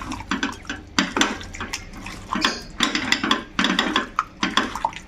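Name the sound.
mixing chicken with coriander, ginger and green chilli paste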